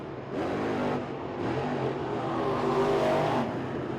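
A dirt-track race car engine roars steadily as it speeds along the track on the final lap, its pitch rising and falling slightly, loud and close throughout.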